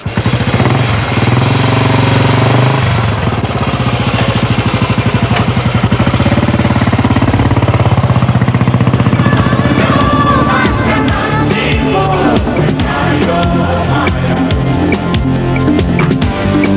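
Royal Enfield motorcycle engine running on a road in India, a loud, steady thumping idle with a rapid pulsing rhythm that builds in intensity toward the end, close to the listener.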